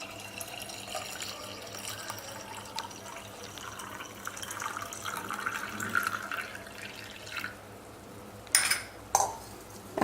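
Tender coconut water is poured into an elaneer nungu sarbath with ice and lime juice, a soft, quiet trickle of liquid, ending with a couple of sharp clinks.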